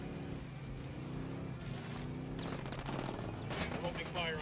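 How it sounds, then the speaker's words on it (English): Gunfire in the open-world shooter Ghost Recon Wildlands, set in Bolivia: faint, rapid automatic bursts mixed with engine and game noise, building toward the end. "I'm opening fire on these shitheads."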